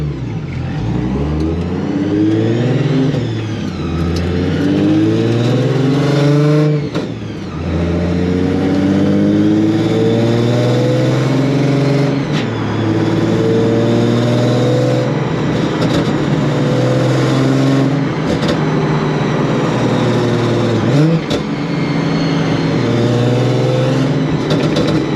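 Supercharged Nissan 350Z accelerating hard through repeated gear pulls, its loud engine rising and falling in pitch with brief dips at shifts, heard close up from inside with no talking.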